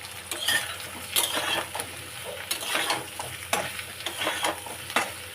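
Ridge gourd sizzles in a pan of fried potatoes and spices, with a soft continuous hiss and repeated clinks and scrapes of a spatula stirring against the metal.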